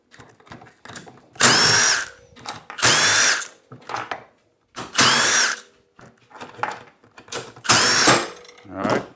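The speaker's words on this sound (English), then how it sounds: "Take a 12mm socket. I'm using a little impact, and it's going to be a little loud" A small impact wrench with a 12mm socket runs in loud, buzzing bursts of about a second each, four or five in a row with short pauses, working on a Kawasaki Ridge clutch during a Dalton spring install.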